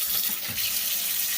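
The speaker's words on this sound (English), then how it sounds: "now I'm putting in some water here. This is to get the starch out." Tap water runs steadily into a bowl of shredded potatoes being rinsed of starch in a kitchen sink, a close, loud, continuous hissing gush with no talking.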